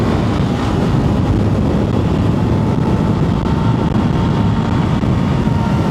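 A 2024 Honda CRF300L dirt bike engine drones steadily at highway speed, its low roar blended with heavy, constant wind rush, loud and unbroken.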